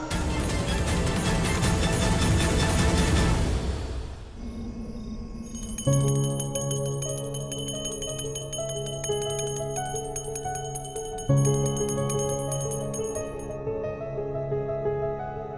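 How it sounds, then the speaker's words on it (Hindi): A bell rings at night amid a dense musical score, its bright metallic ringing repeating steadily over sustained instrumental tones for about fifteen seconds. "इतनी रात गए, ये घंटी क्यों बजा रही हो तुम?"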